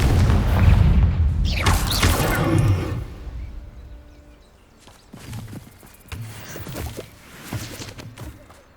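In the Hogwarts Legacy video game, the Confringo spell's explosion opens with a loud, heavy booming blast. Softer thuds and rumbling follow as the impact fades.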